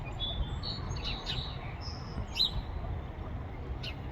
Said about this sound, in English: Looks like we have a house finch nesting inside the golden globe arborvitae.